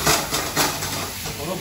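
Meat added to a hot wok for stir-fried beef in Mongolian sauce, a loud close hiss that swells in short surges over a brief moment.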